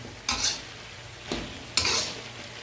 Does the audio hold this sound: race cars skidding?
no